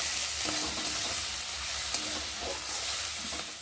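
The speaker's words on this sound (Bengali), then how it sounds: "হলুদ গুঁড়ো লঙ্কার গুঁড়ো আর স্বাদ মতো নুন দিয়ে মশলাটা ভালোভাবে কষিয়ে নেবো" Spice paste of turmeric, chili powder and salt sizzles steadily in hot oil for a fish curry, with soft scraping as it is stirred and fried, close and continuous with no talking.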